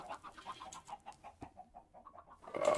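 Chickens in Minecraft give a quiet, steady run of short rhythmic clucks with no talk, ending on a brief louder burst.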